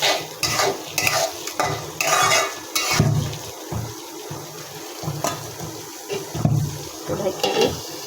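Fish roe frying in a pan with spices while being stirred, close scraping strokes in uneven bursts over a soft sizzle, with no one speaking.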